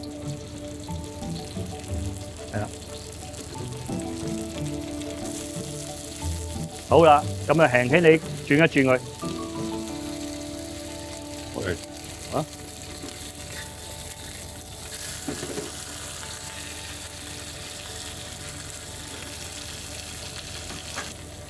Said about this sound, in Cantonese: 慢慢煎到佢金黃色先